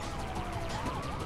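Police car siren in Need For Speed: Hot Pursuit, a steady wailing tone sweeping up and down over engine and road noise, loud and continuous with no voices.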